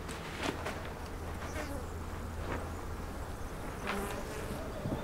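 Bees buzzing around a mountain village in Oman, a steady insect hum with a few individual bees passing close by, moderately faint outdoors.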